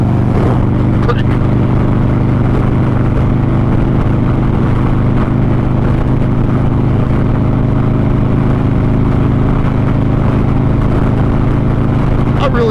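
A Harley-Davidson Crossbones motorcycle cruises on the interstate at about 85 mph, its engine a steady loud low rumble with heavy wind roar throughout; a rider's voice can be heard under the noise.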